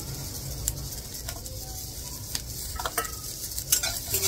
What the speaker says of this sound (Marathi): ह्याच्यामध्येच मी हे आलं आणि ज्या लसणाच्या पाकळ्या होत्या त्या सुद्धा मी टाकणार आहे ह्याच्यामध्ये.